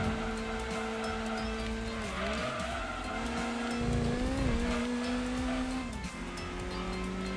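A roughly 205-horsepower race car in Gran Turismo 2 holds a continuous, moderately loud engine drone, its pitch dipping and climbing through gear changes and cornering.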